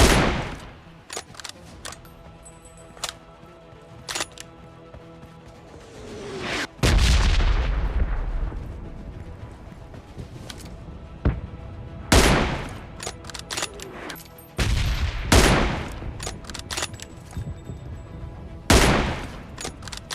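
Gunfire in the PUBG Mobile battle royale game, including M24 sniper rifle shots: a string of sharp, loud cracks and booms spaced irregularly over the stretch, some with heavy low rumble, set against steady background game ambience.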